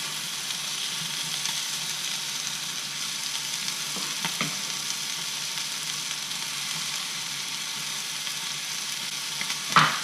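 Onion sears in a very hot, dry pan without oil, giving a steady, even sizzling hiss throughout, with a brief clatter near the end.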